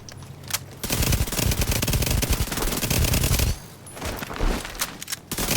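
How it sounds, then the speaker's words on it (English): Sustained automatic gunfire in The Division 2, loud and close, firing a long continuous burst, then a pause and a few shorter bursts. "So that's how strong this gun is."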